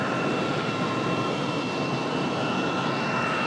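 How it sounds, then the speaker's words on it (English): American Airlines jet taking off from Raleigh Durham airport, a loud, steady broadband engine roar that holds level throughout with no voices. "the American Airlines 2361 off to Dallas Fort Worth"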